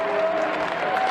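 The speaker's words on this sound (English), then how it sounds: "It's a good ovation from this Michigan State crowd." A Michigan State crowd gives a steady burst of applause at a Maryland vs Michigan State men's college wrestling dual meet, brief, dense and even.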